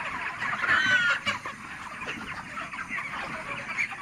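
Chickens on a poultry farm cluck and chatter steadily at moderate loudness, with a louder burst of fowl calls near the start and no voices.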